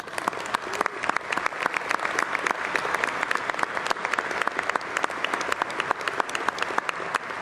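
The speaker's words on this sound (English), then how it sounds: "So let us give her some applause." Audience at a union annual general meeting keynote claps in sustained applause, with distinct individual claps audible as sharp, crisp hits over a continuous dense wash, steady for over seven seconds.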